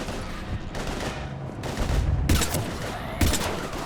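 Rapid, overlapping gunfire from a firefight with Husks in the video game Mass Effect 3, with bursts of automatic fire and sharp louder shots coming in waves and staying loud throughout.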